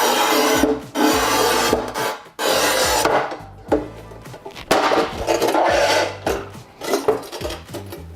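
A Montolit Masterpiuma P5 manual tile cutter scores a 10 mm tile with repeated loud rasping strokes, each pushed stroke ending in a brief pause, close and harsh.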